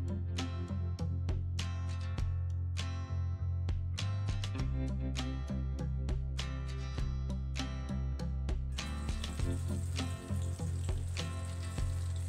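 Paneer pakoras deep-frying in hot oil give a steady, close sizzle with frequent crackles, running continuously over a tonal, music-like backing.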